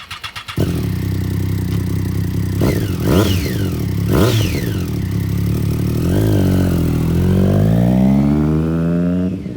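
A used 2012 Triumph Street Triple R 675cc streetfighter motorcycle engine idles loudly and close, blipped into sharp revs several times, then rising steadily in pitch as it accelerates away, with no talking.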